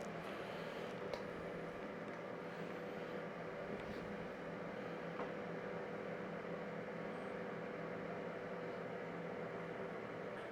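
An oven runs steadily while preheating for a Welsh plate cake, a continuous even hum and whir filling the whole stretch without pause, fairly quiet and with no voices over it.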